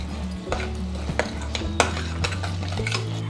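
Turmeric powder, chili powder and garam masala stirred together with a spoon for a mixed vegetable sabzi, giving close scraping strokes and light clinks against the pot over a low background hum.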